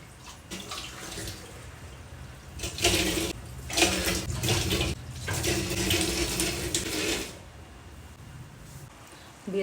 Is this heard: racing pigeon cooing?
no